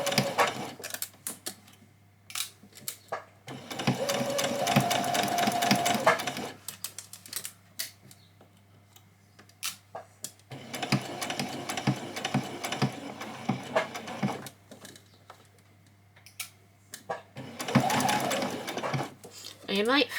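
A sewing machine stitches a child's dress in three long bursts of rapid mechanical whirring and clatter, separated by pauses where a person talks and pins are handled.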